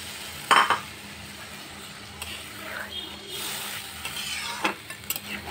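Fried potatoes and fish cooking in a pan with a little water, a soft simmering sizzle broken by sharp clinks of a spoon against the pan and occasional stirring scrapes.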